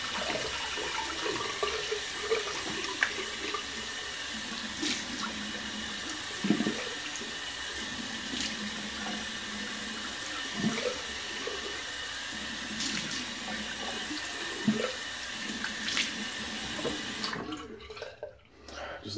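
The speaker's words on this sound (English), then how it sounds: "go ahead and cold water rinse" Cold water running from a sink tap for a face rinse, a steady broadband rush with brief splashes and knocks, fairly close, stopping abruptly near the end.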